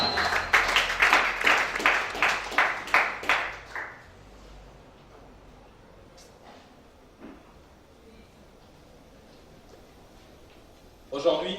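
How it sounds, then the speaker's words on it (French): A church congregation applauds in rhythmic, loud, evenly spaced bursts of clapping for about four seconds, then falls quiet with faint room noise and a brief burst of sound at the end. "Acclamons Shabbat."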